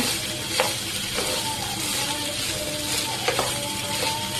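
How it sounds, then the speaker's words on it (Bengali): Food fries briefly in hot mustard oil, a constant close hiss and crackle with a few faint stirring clicks, no speech. "তো আমি তেলের মধ্যে সামান্য সময় জন্য ভেজে নেব।"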